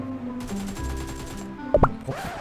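Rapid automatic gunfire from a shooter video game with aim-assist targeting, a dense burst of shots followed by a couple of louder, sharper cracks near the end, with no talk over it.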